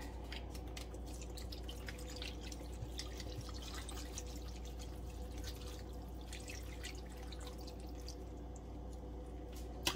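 Water runs into a pot for homemade cabbage soup, a continuous, close splashing and trickling stream that holds steady for about ten seconds with no voices.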